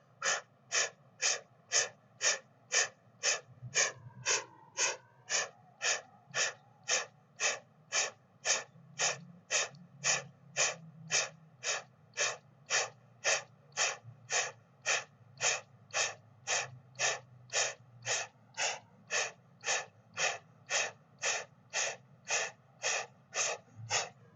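Breath of fire during a yoga flow: rapid forceful nasal exhalations, about two per second in a steady, even rhythm, close and clear for the whole stretch with no talking.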